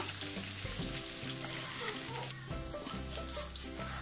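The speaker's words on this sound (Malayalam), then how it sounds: "അപ്പോൾ ഇത് നന്നായിട്ടൊന്ന് വഴറ്റി കൊടുക്കുക" Chicken masala with garam masala sizzles in a pan while being stirred, a steady close frying hiss with scraping strokes over soft tonal background music.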